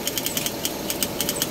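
Suzuki F6A 4x4 engine running after repair for overheating, a close, steady idle with a rhythmic ticking pulse of regular knocks over a low mechanical drone.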